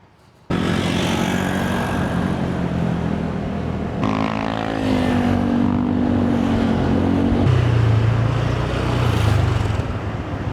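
Motorbike taxi riding through roads in Cebu, Philippines, its engine loud and close throughout, steady droning with shifts in pitch as it changes speed, plus wind rush and no talk.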